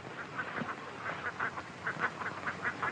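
Ducks quacking in a steady series of short nasal calls, moderately distant and fairly faint, with no one talking.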